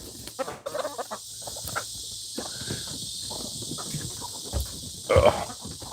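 Chickens clucking softly close by, with scattered footsteps and brief rustles, and a sharper squawk near the end, mostly low and intermittent.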